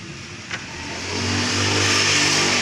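A 2008 Honda CS1 motorcycle engine revs up, its steady mid-pitched drone rising and holding loud and close over a broad hiss, with no talk.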